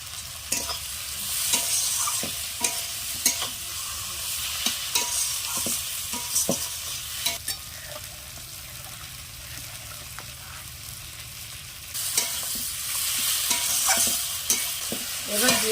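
Spice paste cooked down with a little sugar and tomato sauce, stir-fried in a pan: steady close sizzling with repeated scraping strokes of a spatula throughout, no talking.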